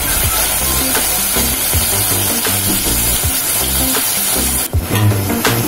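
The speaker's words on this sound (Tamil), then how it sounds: "இப்போ தக்காளியை சேர்த்து நல்லா வதக்க போகிறோம்." Tomatoes sizzle and crackle loudly in a hot pan, with steady spattering and occasional stirring clatter throughout.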